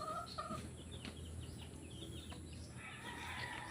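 Brood chickens cluck softly at a distance on a farm, faint scattered calls over a low steady background hum.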